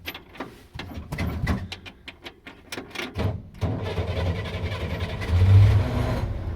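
A 1965 Chevrolet Corvair Monza's engine starts up after a few seconds of cranking and clicking, catching at around three seconds and settling into a steady, loud, close-up idle with a slight rise in revs near the end.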